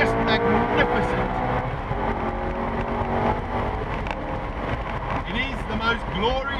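A Maserati GranTurismo S engine roaring and revving continuously, loud and close, with pitch rising and falling as the throttle changes.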